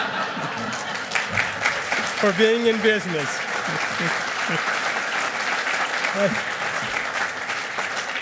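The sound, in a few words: audience applause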